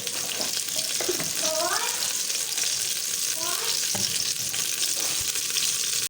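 Ghee hot in a pan gives a steady, loud broadband sizzle throughout, with a few short stirring clinks and scrapes mixed in; no one speaks.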